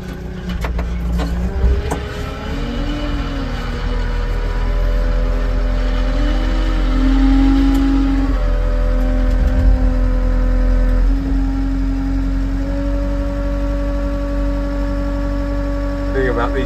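A four-wheel drive vehicle engine pulls steadily in first gear on a loose dirt grading site, its low hum rising and falling with a constant drone, with occasional speech over it.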